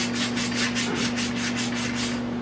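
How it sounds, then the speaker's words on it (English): Repeated back-and-forth scuffing of 150 grit sandpaper over a fiberglass rear speaker deck ahead of epoxy primer, a close, steady rhythmic rasp of about ten strokes with a faint hum beneath and no talking. "I just want to scuff this up, you know, sand this down where the paint, the epoxy primer is going to sit in here"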